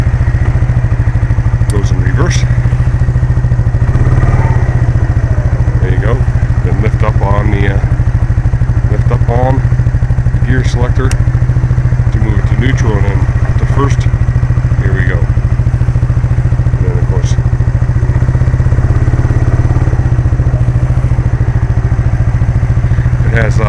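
A Honda Big Red ATV engine runs steadily at a low idle throughout while it is shifted into reverse, with a few light clunks and clatters over the drone and someone talking.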